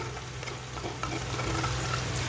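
Half a spoonful of minced garlic frying in a pan after kofta, a close, even sizzle that swells slightly partway through, with light stirring scrapes.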